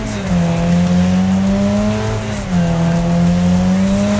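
Racing video game car with a steady engine drone and a continuous squeal of tires that dips and rises as it slides through a turn, loud and up close.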